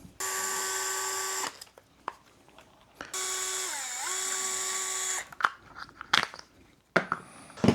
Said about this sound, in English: Just taking the wheel off to make it easier to access